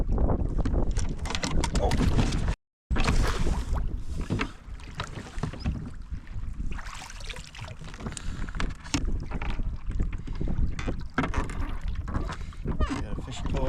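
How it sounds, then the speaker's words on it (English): Strong wind gusting over a pond and buffeting the microphone while fishing from a small boat, a loud continuous roar with a brief dropout, with someone speaking briefly. "Oh, the wind is picking up."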